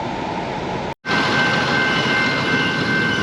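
Steady, loud rumbling roar of a train going by, broad and continuous, with a thin high whine running through it after a brief cut at the start.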